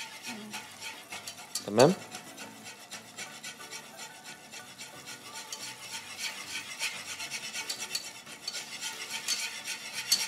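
A spoon scraping and stirring flour into oil and butter in a pot for béchamel, a continuous rasping rub with one louder clatter early on, and a brief spoken word near the beginning.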